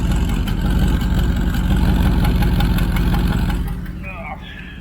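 A stock-longblock 5.3 Silverado 4x4 truck engine with an eBay turbo kit and a wastegate problem idles loud and close with a steady rumble, then drops in level near the end as a voice starts talking.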